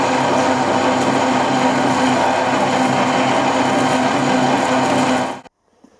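A machine cuts a big hole through cast aluminium, taking off a lot of material with a loud, steady, dense grinding whine that stops abruptly near the end, leaving silence.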